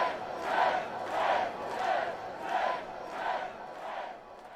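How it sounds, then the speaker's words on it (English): A comedy show audience roars in repeated swells, about six rhythmic waves of cheering and shouting from a crowd, steady and moderately loud with no talk over it. "Round of applause."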